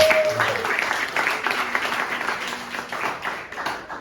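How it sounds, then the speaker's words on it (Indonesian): A church congregation applauds and cheers for a child, with dense, steady clapping from many hands filling a few seconds at moderate volume. "Berikan sorak-sorai bagi anak kita."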